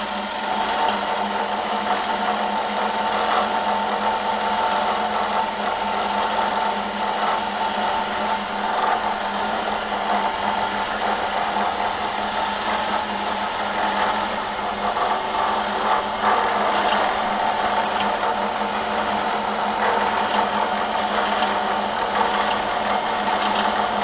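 A milling machine cutting with a half-inch two-flute end mill at about 700 RPM, a loud steady mechanical whine and hum that continues without a break.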